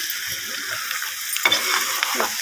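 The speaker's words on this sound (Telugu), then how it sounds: "అడుగంటుకొని కలుపుకుంటూ ఉండాలి." A spoon stirs goat blood fry in a pan, scraping against the bottom over a steady sizzle, with a few sharper scrapes near the end.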